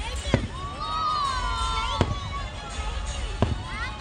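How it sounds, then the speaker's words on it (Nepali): A fireworks display in Qatar: three sharp, separate bangs ring out over a steady background of crowd murmur and thin whistling tones. "यो आधी घन्टा जति फायर वर्क्स गर्दो रहेछन्"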